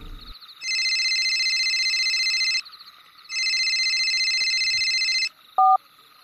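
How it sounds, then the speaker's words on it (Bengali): Telephone ringing for an incoming call, two long electronic ring bursts separated by a pause, loud and close, followed by a short beep, no talking. "কিন্তু সেদিনই ডিব্রুগড় থেকে সায়নের ফোন এলো।"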